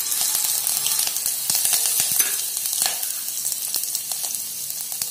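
Curry leaves dropped into hot ghee tempering sizzle loudly and steadily up close, with crackling bursts and occasional stirring clinks, no talk.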